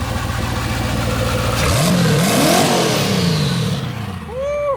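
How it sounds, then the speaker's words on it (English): A twin-turbo Mercedes E55 AMG engine in a home-built track kart idles loudly nearby, then is blipped through a couple of sharp rising and falling revs before settling back to a rumbling idle. "Give us a rev."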